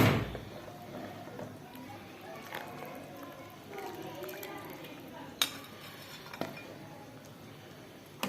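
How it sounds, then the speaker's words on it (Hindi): Beef trotter curry is ladled from a cooking pot into a serving bowl, with scraping and a few sharp metallic clinks of utensil on cookware over a quiet kitchen background. "अब हम इसको एक डूंगे में निकाल लेंगे।"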